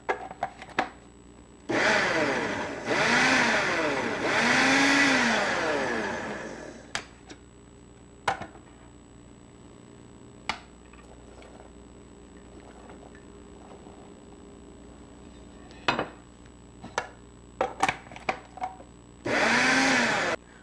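A kitchen blender purees tomatoes and other produce in two loud whirring runs, a long one with the motor pitch rising and falling and a short final burst, separated by quiet stretches with occasional clicks and clatter.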